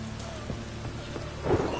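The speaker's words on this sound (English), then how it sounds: "Running around in this rain." Steady rain falls in The Witcher 3, with a low rumble of thunder swelling near the end under the constant wash of the downpour. No voices are heard.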